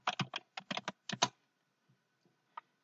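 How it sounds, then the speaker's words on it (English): A short burst of typing on a computer keyboard, several quick close key clicks in a cluster followed by a pause and one last isolated click, crisp and fairly quiet against a silent background. "you can type in Drive into the search bar."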